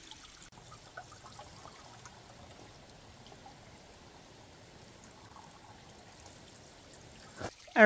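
Water trickling and pouring from a small flowing stream along the Appalachian Trail in New Hampshire, faint and continuous, with a brief louder knock near the end.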